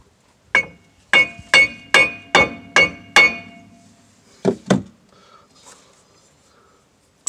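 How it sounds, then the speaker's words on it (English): A hammer taps a new rear wheel bearing into the center bore on a Chevy Tahoe: six sharp metallic strikes in a steady rhythm, then two more after a pause. The blows ring close and loud with no talking. "if you need to tap it with a hammer in the center bore, then that's perfectly fine"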